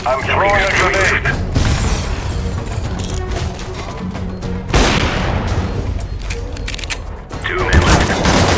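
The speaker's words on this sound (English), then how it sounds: "I'm throwing a grenade." A grenade bursts in the mobile shooter Counter-Strike on the Nuke map, its blasts standing out from dense, continuous gunfire and game noise, with voices faintly underneath.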